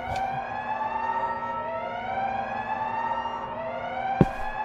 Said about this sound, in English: Well, the alarm went off.